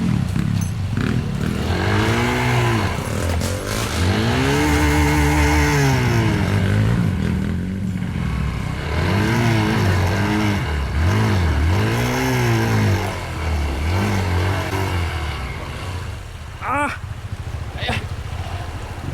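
A motorcycle engine revs up and down repeatedly nearby, rising and falling in pitch, with voices talking over it.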